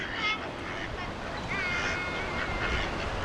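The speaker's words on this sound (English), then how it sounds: "There's some nice ducks here." Ducks quack intermittently over a wash of water and outdoor noise in Marsaskala, Malta, a few calls rising above the steady background.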